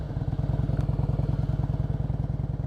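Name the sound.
motorcycle engine with a sharp throttle twist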